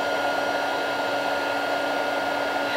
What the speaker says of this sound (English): that shimmer once it's all heat embossed